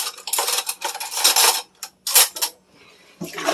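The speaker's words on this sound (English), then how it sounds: "This video is me washing dishes" Dishes and pans clatter and clink while being washed in a kitchen sink, with several bursts of rattling cutlery and crockery separated by brief quiet gaps, close and fairly loud.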